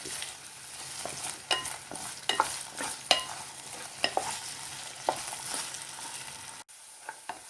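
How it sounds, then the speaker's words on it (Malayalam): Diced potato sizzles steadily in hot ghee while a utensil stirs and scrapes the pan in irregular clicks, close and moderately loud. "എന്നിട്ട് ഒരു പൊട്ടറ്റോ ചതുരത്തിലരിഞ്ഞത് വറുത്തെടുക്കണം"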